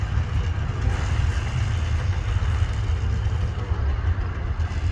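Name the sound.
1978 Yamaha DT dirt bike engine idling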